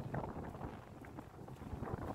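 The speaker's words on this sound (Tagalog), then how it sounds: "So sobrang lakas ng hangin." Strong wind by the sea near rocks and mangroves buffets the microphone in a low, uneven rumble with gusty surges, fairly faint overall.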